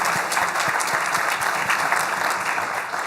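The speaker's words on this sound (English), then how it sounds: "Give him another round of applause" Steady round of applause from an audience at an economic development annual meeting, many hands clapping continuously and evenly for a few seconds without speech.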